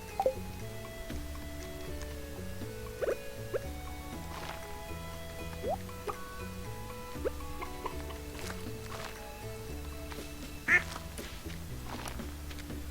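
Chicken clucking in the farming game Stardew Valley, short game-animal calls popping up now and then over steady background music with light ticking and dripping effects.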